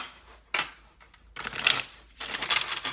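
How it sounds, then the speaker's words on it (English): Tarot cards are handled and shuffled nearby in three separate bursts of crisp papery riffling, each louder than the last, with quiet pauses between and no voices. "All right, this will be our last shuffle."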